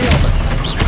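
Expelliarmus disarming spell in the video game Hogwarts Legacy, one sharp, loud burst with a thud and a crackle, under a shouted voice.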